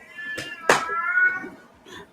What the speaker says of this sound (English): And that is Lola the cat.